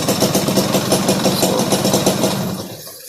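A motorcycle engine with a Mikuni carburetor idles with no throttle, a loud, close, even chugging pulse that holds steady and then drops away as it shuts off.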